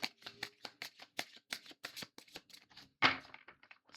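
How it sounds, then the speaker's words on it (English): A deck of tarot cards is shuffled by hand up close in quick, uneven bursts of papery riffling and tapping, with one louder snap of the cards near the end. "I am shuffling them in real time and pulling them."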